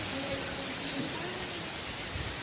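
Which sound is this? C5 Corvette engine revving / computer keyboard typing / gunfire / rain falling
rain falling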